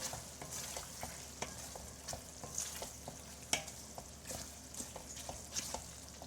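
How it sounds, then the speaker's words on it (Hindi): Chickpeas roast in spices in a pan for Lahori cholay, a quiet sizzle under a regular rhythm of spatula strokes scraping and tapping against the pan, fairly faint throughout. "1 से 2 मिनट हो गए हैं चनों को मसालों के अंदर भूनते"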